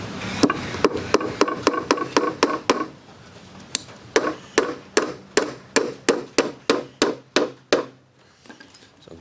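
Hammer striking nails into timber while building a children's mud kitchen, a run of sharp, evenly spaced wooden knocks close by, a brief pause, then a second steady burst of blows that quickens toward the end before stopping.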